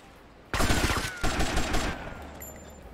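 Gunfire in GTA Vice City while shooting at enemies, a sudden loud burst of rapid automatic shots lasting about a second and a half, a brief break, then more shots that fade into a lingering tail.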